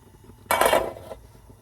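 A metal lid set onto a cooking pot of sinigang fish soup with pampano: a single bright clanking clatter with a brief ringing rattle as it settles, close and fairly loud against a quiet kitchen.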